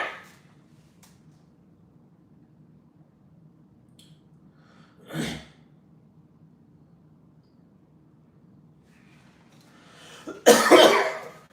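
A few separate coughs over quiet room tone: a short one at the start, another midway, and a louder, harsher burst of coughing near the end.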